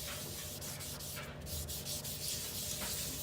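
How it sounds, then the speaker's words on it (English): Steady abrasive scrubbing on a kitchen sink cleaned with borax, a continuous rough rubbing texture with small irregular strokes, close by and alone without talk. "we're just going to clean this kitchen sink because it looks awful"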